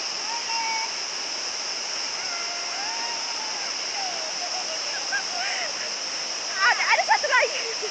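Aek Aloban waterfall at Taian Nauli, Tapteng, pours with a steady, even roar throughout, with faint bird calls and a brief voice near the end.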